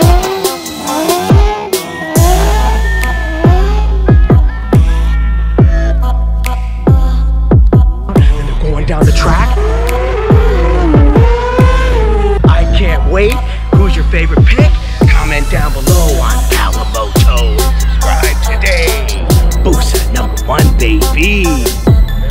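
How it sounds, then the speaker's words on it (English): A 700 horsepower turbo Hayabusa drag racing motorcycle does a burnout at Bradenton Motorsports Park, a loud droning engine hum with rising and falling revs and sharp bursts, while voices are heard occasionally. "They're doing a burnout."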